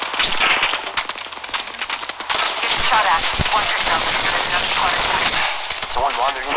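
Rapid automatic gunfire rattles almost without a break in the mobile shooter Apex Legends Mobile as one squad fights another, loud and close, with brief gaps and a faint voice underneath.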